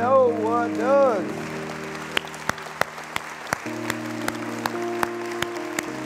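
After a voice sings or calls out, an audience answers with a sparse round of applause: about a dozen sharp, separate claps spread over a few seconds under a low, steady hum.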